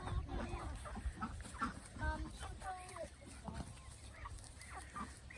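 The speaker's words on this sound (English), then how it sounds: "Chickens are hanging in the tall grass here." Chickens cluck softly and intermittently nearby amid faint outdoor background noise, with some quiet murmuring.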